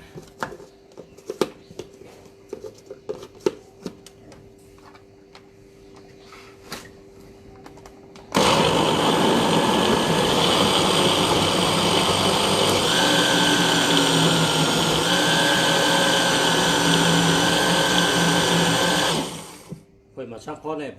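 An electric blender packed full of fruit, including melon, roars loudly and steadily for about ten seconds, then stops abruptly. Clattering and voices come before it starts.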